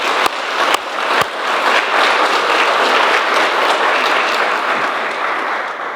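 A crowd at a JROTC awards ceremony applauds, a dense and loud burst of clapping that holds steady for several seconds after a few sharp early claps, with no one speaking over it.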